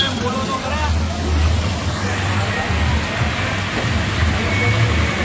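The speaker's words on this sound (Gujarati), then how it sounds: "વરસાદ છે" Steady rain patters throughout, mixed with low traffic rumble and a murmur of people talking in the background.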